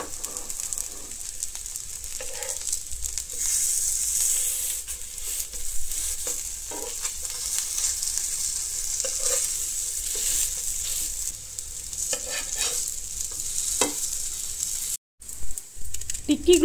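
Tikki patties frying in a pan on a low flame, a steady soft sizzle and hiss running throughout with occasional light clinks and stirring sounds.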